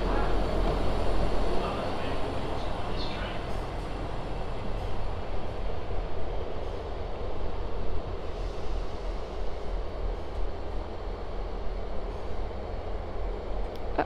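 Train at Basingstoke station on the South Western Main Line, a steady loud rumble and hum of a stationary or slowly idling train throughout, close by, with no clear talking.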